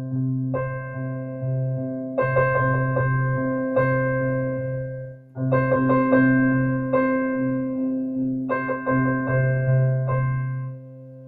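Piano played by ear, rhythms only, in short repeated chordal bursts with brief pauses between phrases, clear and close with no talking.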